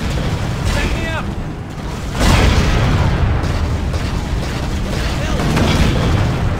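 Turret blasts from the Halo video game boom loudly and repeatedly, heavy rumbling bursts layered over continuous battle noise.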